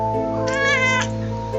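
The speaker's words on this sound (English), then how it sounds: "She's meowing." A cat lets out a single drawn-out meow nearby over a steady background hum.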